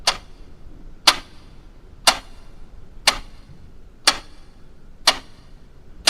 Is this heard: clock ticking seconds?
yes